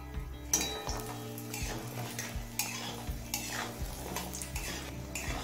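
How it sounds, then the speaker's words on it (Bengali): Bori lentil dumplings frying in hot mustard oil in a kadai wok: a soft close sizzle with frequent metal spoon stirs and clinks against the pan. "এবার কয়েকটা বড়ি ভেজে নেব।"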